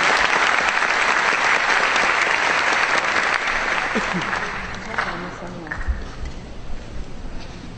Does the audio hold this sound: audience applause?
yes